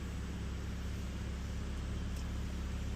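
An Acura TLX or MDX Type S idling just after start-up, with the cabin heat and fans on full: a faint, steady low drone with an even hiss on top, unchanging and without voices.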